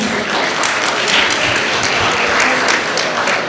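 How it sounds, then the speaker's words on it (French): An audience at an evening event in Geneva applauds the mayor of Vernier, a dense continuous patter of many hands clapping at moderate distance, steady throughout with no talk on top. "Un grand applaudissement pour le maire de Vernier."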